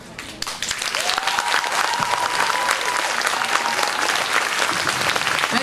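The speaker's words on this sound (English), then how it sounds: "Let's give them a round of applause" An audience claps steadily for a performing team at an environmental-themed school event, a dense sustained round of applause with crowd noise underneath.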